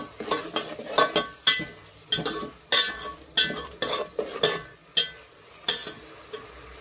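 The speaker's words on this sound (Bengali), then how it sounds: "মশলাটা আমি হালকা জল দিয়ে কষিয়ে নেব।" Biryani spice paste is stirred and fried in a pan with a little water, producing a steady run of sharp spoon scrapes and clatters in a quick rhythm over a soft sizzle, up close and with no voices.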